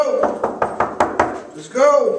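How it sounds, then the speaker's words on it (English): Knuckles rap on hotel room doors in quick, evenly spaced knocks, six or seven sharp close blows, followed by a voice calling out. "knock on these doors, get everybody up"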